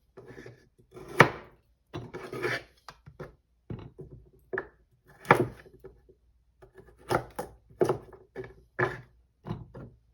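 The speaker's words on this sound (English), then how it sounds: "Chopping these up. You don't want them diced, you just want them chopped" A knife rough-chopping carrots and other vegetables on a wooden cutting board, close, crisp irregular thuds coming in quick clusters with short pauses.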